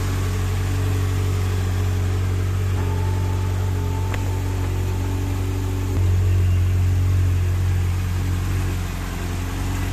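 A Volkswagen Golf 2 16v engine idles with a steady, low hum, quiet and even throughout, with no knocks or irregular noises, just a smooth continuous rumble.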